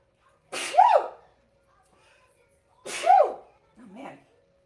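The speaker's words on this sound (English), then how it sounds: "Oh man, maybe onions make me sneeze now." Two loud, close sneezes a couple of seconds apart, followed by a softer sniff or gasp, from someone cutting onions in a kitchen while a children's cartoon plays faintly in the background.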